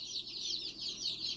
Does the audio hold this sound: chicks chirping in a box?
yes